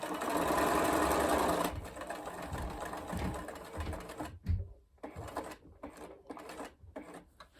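A sewing machine stitching fabric whirs steadily at first, then runs in shorter stop-start bursts with mechanical clatter, close by.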